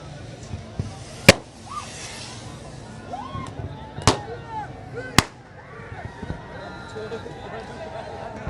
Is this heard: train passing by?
no